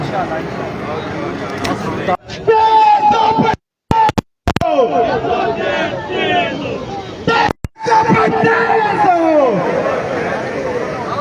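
Large rally crowd at a stadium answers slogans in loud, surging bursts of massed voices, a dense babble broken by brief dropouts, with a leader's amplified chants cutting through.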